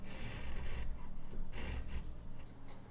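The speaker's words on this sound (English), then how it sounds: "I beveled the corners of the joint to protect the wood from chipping out" Hand tool beveling the corners of a wooden joint on a furniture build, heard as close, repeated rasping strokes in an uneven rhythm with no talking.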